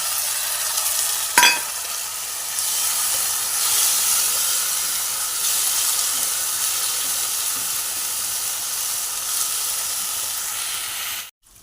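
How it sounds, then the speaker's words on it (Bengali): A little water is added to a frying pan while cooking potol dolma, and a sharp tap is followed by a long, steady steamy sizzle and hiss that holds close and even until an abrupt cut. "একটু জল দিয়ে দিলাম সামান্য পরিমাণে"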